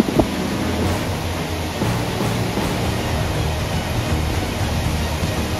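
Strong super typhoon wind roars steadily around a small hut, a loud broadband rush with gusty buffeting of the microphone and no speech.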